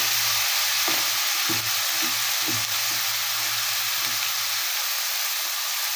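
Fish curry base for a silver carp and vegetable jhol frying in a pan as turmeric powder goes in, a steady close sizzle with soft scraping stirs and light clinks, no voices.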